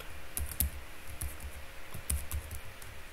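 Computer keyboard typing during ASP.NET MVC setup in Visual Studio, a rapid run of close, crisp key clicks with a few heavier taps in an irregular rhythm, no voices.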